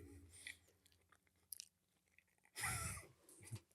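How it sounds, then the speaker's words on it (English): Loud, close chewing and crunching of food right against a microphone, with bursts of wet mastication and biting noises coming in uneven clumps, including one long, heavy crunchy stretch near the end. "I'm sure y'all don't hear it chewing in the microphone."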